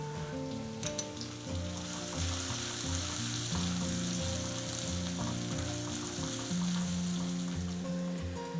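Garlic and finely chopped green chilli fry in a pan, producing a dense, crackling sizzle that runs steadily throughout with a faint hum beneath.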